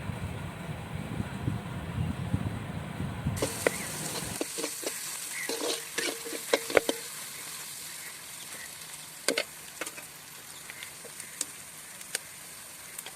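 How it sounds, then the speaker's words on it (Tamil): Onions and curry leaves sauté in a pan for a village country-chicken curry. A low, rumbling sizzle gives way to sharp, scattered clicks and scrapes of stirring, close and moderately loud. "கருவேப்பிலை போட்டு இன்னும் கொஞ்சம் நல்லா வதக்கணும்"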